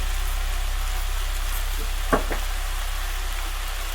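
A brinjal dal mixture with turmeric and salt fries in a pan with a soft steady sizzle over a low hum, broken by one brief stirring clank near the middle.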